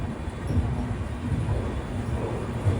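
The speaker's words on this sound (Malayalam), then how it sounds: "9:41 ട്രെയിൻ ഇതാ പാലക്കാട് ജംഗ്ഷനിലേക്ക് എത്തുകയാണ്." A train pulls into Palakkad Junction, a steady low rumble of rolling wheels and carriages with faint squeals, continuous and fairly close.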